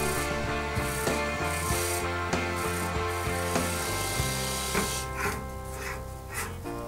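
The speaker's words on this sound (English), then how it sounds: "Now using a parting tool, I'm cutting a tenon on one end so that I'll be able to hold this using my chuck." A parting tool cuts a tenon into a wooden blank spinning on a wood lathe, giving a steady humming drone with repeated scraping and ticking contact noises throughout.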